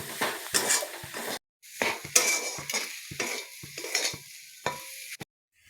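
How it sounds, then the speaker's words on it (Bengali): A spatula scrapes and stirs a sizzling fish filling with lemon juice and amchur powder in a pan, for fish fingers, in repeated close strokes with soft frying hiss between and brief pauses. "মাছের পুরটা ভালো করে কষে নেব।"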